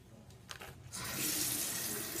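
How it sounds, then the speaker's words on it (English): Water runs from a tap for hand washing, a steady broadband rush that starts after about a second and continues to the end, with faint handling noise before it. "And now I've got to wash my hands."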